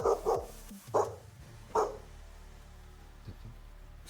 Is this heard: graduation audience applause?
no